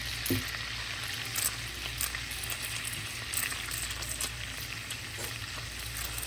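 Butter browning in a very hot pan while being stirred, a steady loud sizzle and crackle with occasional sharper pops and spatters throughout, no voices.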